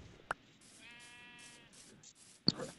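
A sheep bleats in the block-building video game Craftsman: a faint, wavering bleat amid quiet game ambience, framed by two short clicks.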